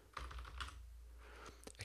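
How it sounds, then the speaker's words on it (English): Computer keyboard keys are pressed in a brief, quiet flurry of soft clicks, irregular and close, with a couple of sharper taps at the end. "I'm having trouble typing"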